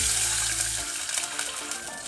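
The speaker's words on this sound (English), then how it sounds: "we are going to fry the garlic under a medium heat for about 30 seconds" Garlic fries in a pan over medium heat, a close, steady hissing sizzle with crackling spits throughout, under a low hum that fades early on, with no talk.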